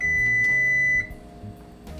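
An oven beeps once it finishes preheating: a single steady electronic tone held for about a second, then cut off, over a low kitchen hum and background clatter.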